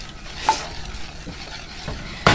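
Butter melting in a pan on the stove for an oatmeal cake topping, a steady soft sizzle with a few stirring scrapes, close and alone without talk.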